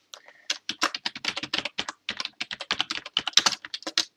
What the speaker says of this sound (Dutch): Else, kunnen we ook iets typen.